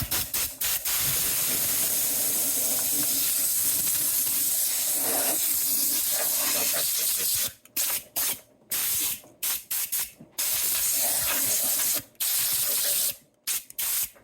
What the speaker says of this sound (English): The compressor turned on.